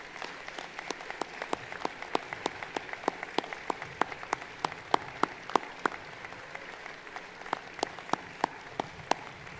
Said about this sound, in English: A little more applause from the graduates